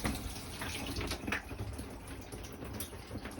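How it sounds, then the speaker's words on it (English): Running water from the shower in a Lakota Colt LQ camper trailer, a steady close hiss and splatter that continues throughout with no talk. "Still got the shower going."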